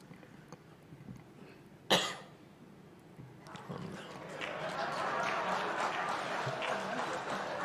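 A single sharp cough rings out near the microphone, followed by rising murmur and scattered clapping from a crowd.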